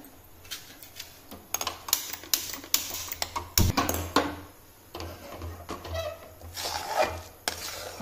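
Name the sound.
stirring the coconut and sugar wadi mixture in a pan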